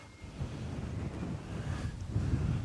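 Steady wind on a golf course rushes and buffets against the microphone, a constant low roar with no voices.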